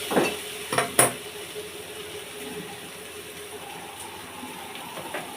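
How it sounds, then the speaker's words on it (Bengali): Okra curry stirred in a cooking pot: a few clattering scrapes of a utensil against the metal come close together at the start, then the sound settles into a faint, quiet simmer. "সবসময় নাড়তে হবে, না নেড়ে দিলে, না ঘেঁটে দিলে এই তলায় বসে যাবে"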